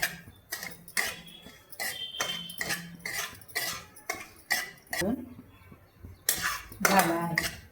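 A spatula scrapes and clanks against a hot kadhai while ingredients roast for aloo matar paneer upma. The metallic strokes come in sharp, regular bursts about every half second, close and fairly loud, with short quiet gaps between them.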